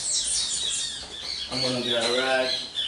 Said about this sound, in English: Those birds in the area, they come out every morning and make a lot of noise